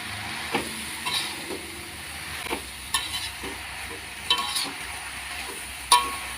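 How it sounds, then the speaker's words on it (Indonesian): Water spinach (genjer) is stirred in boiling water in a pan, giving a steady bubbling hiss broken by scattered utensil clinks and scrapes against the pan, close by with no speech. "Kita aduk."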